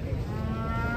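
A cow lets out a single low, steady moo, close and fairly loud, lasting about a second.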